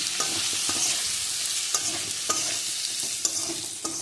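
Spices sauté in a pan with dried chilli, a steady close hiss broken by repeated scraping stirs and light spatula taps at an irregular pace.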